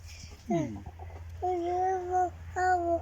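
A few short, drawn-out free-range chicken vocalizations sound close by against quiet background noise, spaced across a few seconds.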